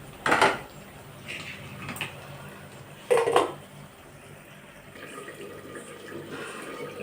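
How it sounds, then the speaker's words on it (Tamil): Citron pickle moved between kitchen vessels, producing two sharp clinks of metal pots and utensils a few seconds apart, close by, with soft wet sloshing and scraping in between. "அப்படியே இந்த பாத்திரத்தில் மாற்றிக்கலாம்"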